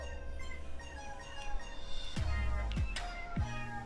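A street cat in the video game Boyfriend Dungeon gives a few short, close meows over quiet background music, with no talking.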